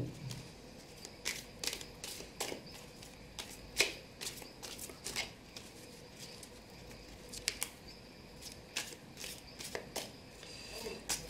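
Cards for a reading are shuffled in quick irregular riffling bursts, crisp close snaps and flutters repeating throughout at a quiet level, with no talking.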